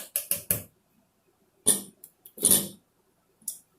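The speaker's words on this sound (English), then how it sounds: "using the same spoon, we're going to put in 1 teaspoon of baking soda" A metal spoon knocks and scrapes against a mixing bowl while a teaspoon of baking soda goes into a strawberry banana oat bread batter: three quick clinks, then a few scattered taps and scrapes, close and fairly quiet.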